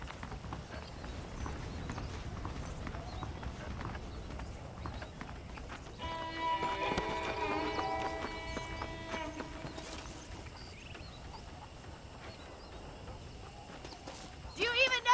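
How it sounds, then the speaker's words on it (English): Saddled horses in Red Dead Redemption walk with soft hoof clops under a bed of game ambience and a brief tonal music sting in the middle, with a closer thud at the very end. "The horses are saddled up over here."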